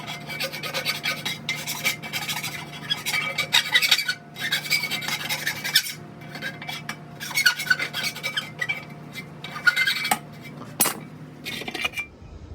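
A hand file deburrs a metal spacer for a truck tool box, giving repeated close, scraping rasp strokes in an uneven rhythm with brief pauses between passes.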